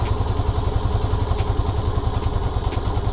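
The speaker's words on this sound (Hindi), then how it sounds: "आपको इंजन साउंड सुन के समझ में आ रहा होगा ये बहुत कम हो गया।" Fuel-injected motorcycle engine idling at lowered rpm after the idle screw is tightened, a steady low, thumping chug with faint clatter, close and continuous with no talk.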